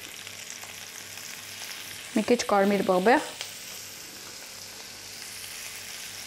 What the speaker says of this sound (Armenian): Հիմա ուզում եմ կարակով տապակել։